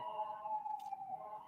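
Emergency vehicle siren wailing outdoors, a sustained tone that rises and falls gently for a second and a half, moderately loud and heard alone.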